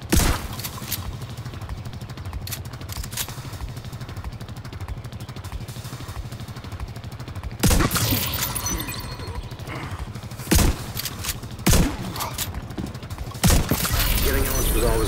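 Gunfire in a video game shootout near a presidential hideaway, with a few sharp broadband bursts standing out over a steady rumbling battle bed in the second half, under game sounds.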